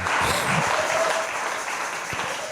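A church congregation applauds during a sermon, a steady wash of many hands clapping at moderate loudness, continuous across the whole moment.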